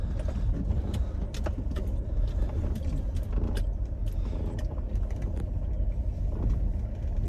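A campervan's engine runs as the van is shifted in a small car park in the Scottish Highlands, a steady close rumble with light rattling and jangling throughout.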